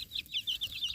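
A mother hen with her chicks makes a quick series of high, chirpy peeps and clucks. They sound close but fairly quiet over a low background rumble.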